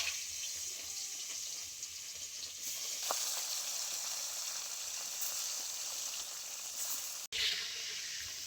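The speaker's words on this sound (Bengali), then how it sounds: "তো প্রথমে আমি বাটা মাছগুলো ভেজে নেব" Bata fish sizzle in hot mustard oil in a kadai with a steady, fairly quiet hiss. There is one soft clink and a short break near the end, and no one speaks.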